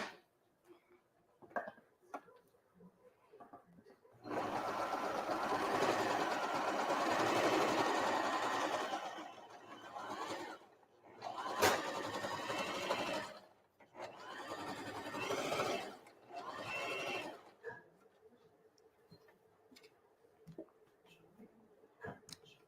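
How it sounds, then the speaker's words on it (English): A sewing machine stitches a fabric heater bag in a kids' class, running in steady bursts of several seconds, stopping between runs while the fabric is turned, with soft handling clicks in the pauses. "we're going to keep on sewing"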